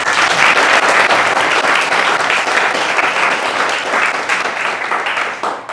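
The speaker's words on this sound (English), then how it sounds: "Can we give them another round of applause?" A chapel audience at an arts gathering gives sustained, dense applause for performing artists, loud and steady throughout, fading slightly at the end.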